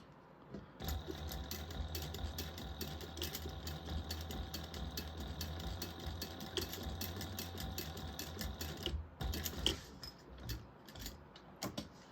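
A sewing machine stitches across a bag, running down and back in a steady, fast mechanical whir with a rhythmic needle clatter, close by, then slowing and stopping near the end.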